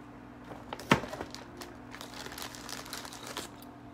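A single sharp crack of a small piece of wood being handled, close and brief, followed by faint light rustling and tapping.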